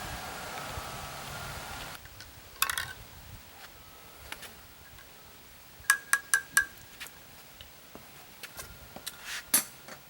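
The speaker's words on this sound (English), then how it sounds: "You guys want to watch me stir this?" A spoon stirs a drink in a glass, tinkling and clinking lightly in short clusters of quick taps against a quiet background, faint and close.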